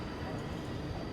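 Howrah–Prayagraj express train pulling into Kashi station, a steady low rumble of rail cars rolling on the track, even and unbroken throughout, with no voices.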